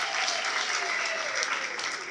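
A church congregation at a prophet's service applauds Jesus with vigorous, continuous clapping that fills the whole two seconds at a steady, lively level.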